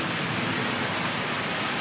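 Steady rain falling, a dense, even hiss of drops on surfaces that fills the short stretch with no break and no voices over it.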